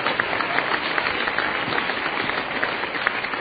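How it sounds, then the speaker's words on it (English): A church congregation claps their hands during a sermon, a dense, fairly even wash of many hands clapping together, moderately loud and steady for a few seconds with no voice on top. "Clap your hands to the Lord now."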